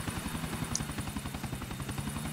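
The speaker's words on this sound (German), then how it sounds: "Alter, dieser Helikopter, ne?" Helicopter in GTA 4 with a rapid, rhythmic rotor beat, fairly close and steady across the short stretch, with no one speaking.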